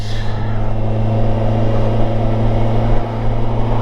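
A vehicle cruising along a highway, a loud, constant low engine drone and road rumble with wind noise, close and unbroken for the whole stretch.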